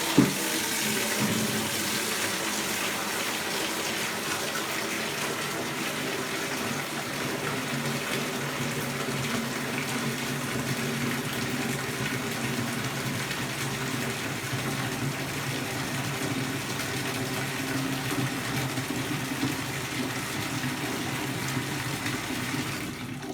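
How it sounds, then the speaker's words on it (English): A bathtub faucet runs steadily into a bucket, filling it about halfway. The splashing gush stays even for over twenty seconds with no one speaking. "Once you find water, you're going to want to fill this up about halfway. So today, for the example, I'm going to use the bathtub."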